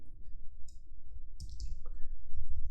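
A few light, scattered clicks of computer keyboard typing, soft and close, with short pauses between bursts over low background hum.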